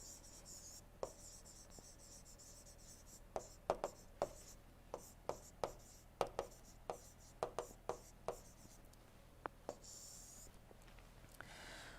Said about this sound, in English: let me write here regenerative principle